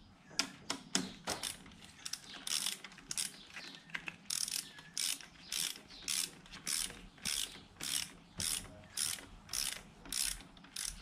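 A ratchet wrench tightens the clutch bolts on a 2016 Kawasaki Z1000 motorcycle up to torque. Close, rapid clicking comes in bursts, settling into a steady rhythm of short ratcheting strokes with brief pauses between them.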